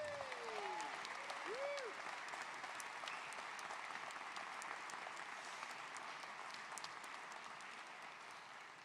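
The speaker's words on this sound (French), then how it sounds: "On peut les applaudir encore." Sustained applause from a church congregation at an evangelical congress honoring new ministers, steady dense clapping throughout with a few brief tonal squeals early on, gradually easing slightly toward the end.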